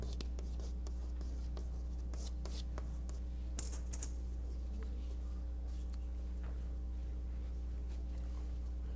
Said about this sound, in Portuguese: Vou escrever assim.